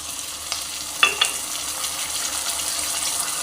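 Potatoes frying in a pan with ginger paste and a little water, a soft continuous sizzle with a sharper burst of hissing and a couple of stirring knocks near the start, then a steady bubbling fry.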